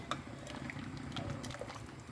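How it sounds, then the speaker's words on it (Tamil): Sugar syrup for agar agar dry jellies bubbles at a gentle boil in a pot, soft pops and crackles close by and fairly faint, with no talking. "நல்லா கொதிக்க வச்சுக்கோங்க."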